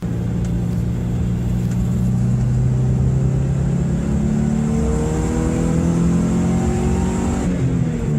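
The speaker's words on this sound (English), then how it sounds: "a mechanical noise from the engine bay that is just very pleasant" A 1993 Subaru Impreza engine revs steadily, its rising and falling pitch sweeping up through a loud, continuous mechanical drone with no voices.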